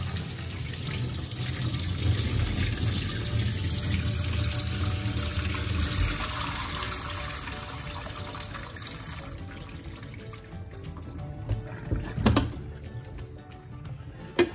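Tap water runs steadily into a sink as the soaking water for crushed green olives is changed, a broad continuous rush that thins toward the end, with a few brief clinks and splashes near the close.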